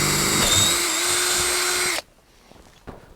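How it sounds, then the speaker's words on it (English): Power drill boring holes through a camper van's pop-top roof, a steady close whine for about two seconds that stops abruptly, followed by faint handling noise. "I'm just going to drill a couple of holes through the pop top"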